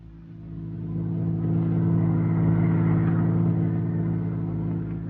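Car engine in an old-time radio drama sound effect, a steady low rumble that swells as the car pulls away and holds loud before easing slightly, no voices.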